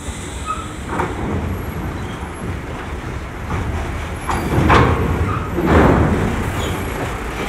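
A bus at the ferry port of Merak moves past nearby, with a loud, continuous engine rumble and road noise that swells twice as it passes amid general vehicle traffic.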